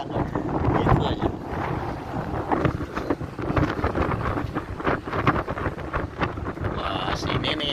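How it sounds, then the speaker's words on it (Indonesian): Strong wind gusts through a street in Mecca, roaring and buffeting the microphone in a loud, continuous rush with deep low rumble for the whole stretch. "Wah, sini nih anginnya agak kenceng nih."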